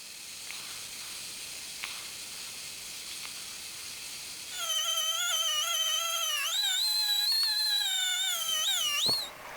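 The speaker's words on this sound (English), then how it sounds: "Melt the rod onto the surface without overheating the base material" A plastic welder works urethane rod onto a Dodge Challenger bumper: a quiet hiss at first, then a loud, steady, wavering tonal whine from the hot tool that holds for several seconds before cutting off.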